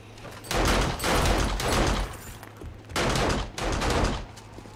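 Bursts of rapid gunfire in the video game Darkness Falls, two long loud volleys separated by a short pause, close and harsh.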